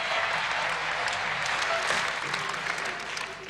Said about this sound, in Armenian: ձեզ համար այս ծափերը ձերն են